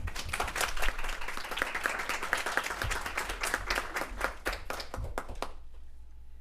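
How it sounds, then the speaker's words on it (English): Audience at a school board meeting applauds: scattered, distinct handclaps from a small group in a meeting room, moderately close, fading out abruptly near the end into quiet. "Maybe a round of applause."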